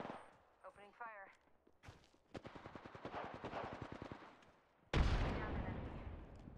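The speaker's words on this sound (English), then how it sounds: "Oh, I'm getting shot at, I'm getting shot at." Gunfire in the Apex Legends video game: a rapid automatic burst of close shots rattling for a couple of seconds, then a loud heavy blast with a long rumbling tail, with brief voices at the start.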